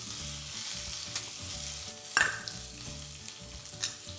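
Sliced shallots and dried red chillies fry in hot oil for a Kerala pulinkari, giving a steady close sizzle with a sharp crackle and spoon stirs partway through, no talking.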